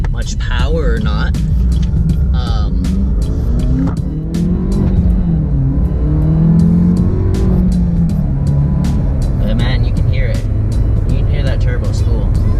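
A Camaro fitted with a ZZP silicone intake shows turbo spool and a revving engine, loud and close, while people talk over it.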